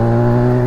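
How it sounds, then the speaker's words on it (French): A motorcycle engine revving hard in second gear, a loud, close, sustained tonal drone at high revs with no voices. "Là on accélère à fond, ça monte dans les tours"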